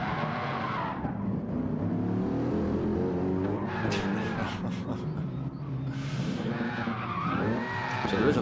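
Gran Turismo Gr.3 race cars at Interlagos skid and bump into one another, with repeated tire squeals, sharp scrapes and revving engines sweeping up and down, fairly close and prominent.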